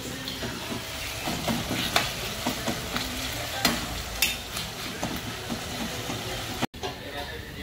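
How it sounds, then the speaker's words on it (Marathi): Onions salted and frying until browned crackle steadily in the pan, with repeated scraping stirs, occasional sharper clicks and a brief dropout near the end; a voice talks faintly in the background. "कांद्यामध्ये मीठ टाकलं की कसं कांदा पटकन ब्राऊन होतो."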